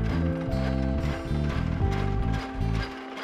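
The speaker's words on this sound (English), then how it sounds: "Ravenox uses classic early 1900s Haskell Dawes American-made machines to twist our rope." Early 1900s American-made Haskell Dawes rope twisting machine working cotton rope, a loud continuous mechanical clatter of ratcheting gears and rhythmic knocking pulses, steady throughout and heard alone.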